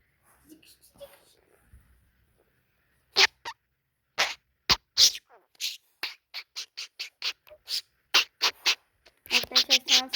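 A pet bird gives a series of short, sharp chirps and squawks close by, in bursts of rapid calls with quiet gaps between them.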